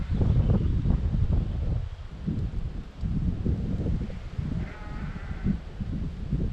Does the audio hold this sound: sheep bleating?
yes